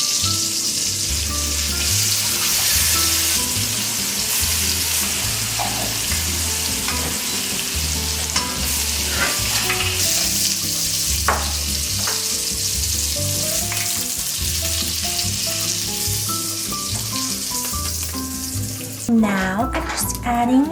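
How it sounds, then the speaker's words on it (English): Food sizzles and spatters steadily in a pan on a home stovetop, a continuous close crackle with occasional clinks and stirring, plus brief running water near the end. "I'm just gonna cook in this pan"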